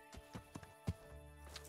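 A horse's hooves clip-clop in the video game Kingdom Come: Deliverance, a handful of separate, uneven hoof strikes at close range with quiet ambience between them.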